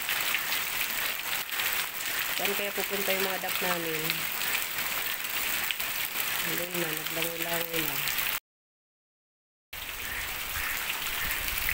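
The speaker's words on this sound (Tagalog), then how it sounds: "hindi pa rin tumitigil yung ulan" Steady rain pours outside a flooded house, a broad continuous hiss running the whole time with a short dropout near the end, while people talk over it in Filipino.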